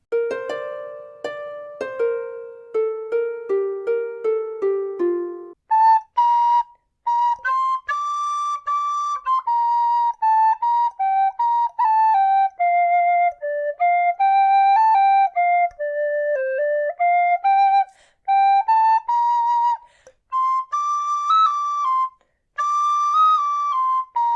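A tune played on a C tin whistle, starting with short separate notes, then a flowing melody of clear, bright, sustained notes that rise and fall. It is close and loud, with no talking.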